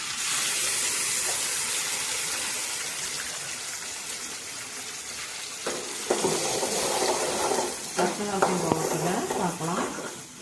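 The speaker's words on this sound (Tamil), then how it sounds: "தக்காளி, வெங்காயம் அரைச்சி சேர்த்துக்கலாம்." Ground tomato and onion paste frying in a pan for egg gravy: a steady loud sizzle, then scraping, stirring noises breaking through the hiss toward the end.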